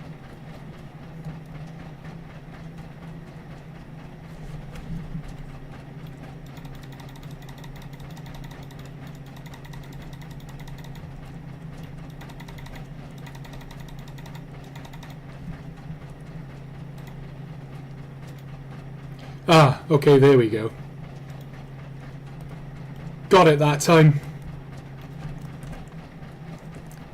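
A locomotive couples onto wagons on the Bala Lake Railway in a train simulator game, with two sharp metallic clanks of buffers and couplings several seconds apart over a steady engine idle hum; someone talks briefly.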